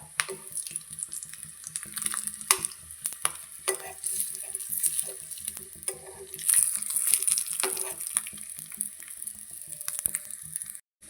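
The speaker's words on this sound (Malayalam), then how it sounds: "മീൻ ഒരു വശം മൂത്ത് വന്നിട്ടുണ്ട്. നമുക്ക് തിരിച്ചിട്ട് കൊടുക്കാം." Fish sizzles in hot oil in a pan, a steady crackle broken by scraping and clatter as pieces are turned, with brief louder bursts of spitting and no talking.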